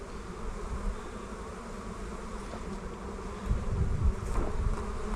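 Honeybees swarm in a dense, steady buzz at the front of an apiary hive, a close, continuous hum that swells louder near the end as the bees grow agitated.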